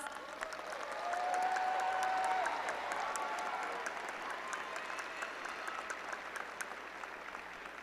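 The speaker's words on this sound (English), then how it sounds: "So it's a round of applause." Sustained applause from a commencement audience for psychology graduates, swelling after the first second and continuing steadily as a dense wash of clapping in a large hall.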